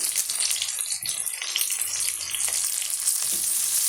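Curry leaves frying in hot oil for an okra kara kuzhambu, a close, steady hiss and crackle of sizzling that continues without a break.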